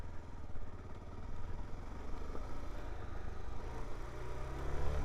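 Steady mid-pitched engine drone from a Suzuki DR-Z4S motorcycle while riding in ride mode A, continuous and close with slight surges in revs, and no talk over it.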